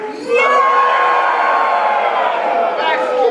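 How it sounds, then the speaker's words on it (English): A large crowd at an internet marketing training event roars a war cry in unison, a sustained loud collective yell that holds for a few seconds before starting to fade. "I want to hear everybody give me your wealth war cry"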